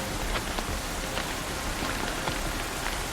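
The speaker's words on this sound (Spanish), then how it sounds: "la lluvia había formado pequeños arroyos con la fuerza suficiente para derribar hombres" Heavy rain pours down at night in a dense, steady hiss of countless drops pattering on surfaces, continuous and even, with no voices.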